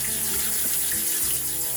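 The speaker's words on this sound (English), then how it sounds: "And then just put it in the running water." Tap water runs steadily into a sink to rinse brushes, a close, continuous splashing hiss with no talk.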